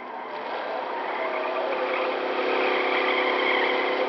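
A nuclear roadster engine in Fallout 76 hums at a steady whirring drone as the car drives fast. The sound is sustained and fairly loud, rising slightly over a few seconds, with no talk.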